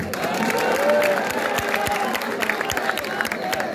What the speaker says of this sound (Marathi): आज हा जो काही जल्लोष आहे